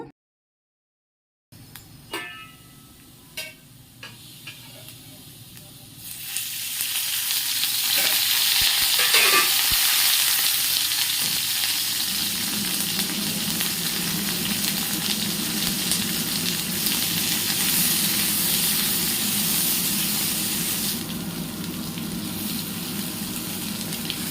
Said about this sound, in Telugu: పక్కన కడాయిలోకి ఫస్ట్ ఆనియన్ అయితే వేస్తున్నా చూడండి ఆయిల్ వేయకుండా